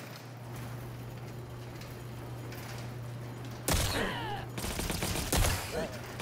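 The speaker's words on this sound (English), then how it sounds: "we're gonna give these guns a shot." Guns fire in a bursty volley within the Welcome to ParadiZe video game, breaking in abruptly after several seconds of steady low humming ambience, with sharp loud cracks and rattling bursts that stop and then resume near the end.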